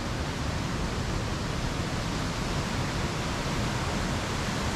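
Burgess Falls, a waterfall in Tennessee, roars as a steady, dense broadband rush of falling water, loud and unbroken throughout with no voices.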